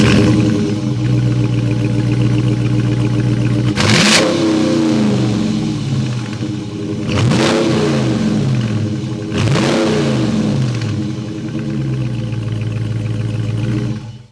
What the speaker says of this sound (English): Let's hear this Hemi rev up.